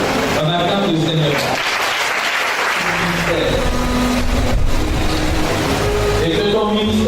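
A church congregation applauds in a sustained, dense wash of clapping, with voices calling out underneath.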